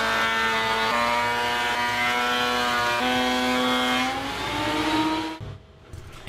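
Thickness planer feeding maple boards down toward a 1.5 inch dimension, a loud sustained whine with steady pitch that shifts slightly as each board passes, then drops away at the end.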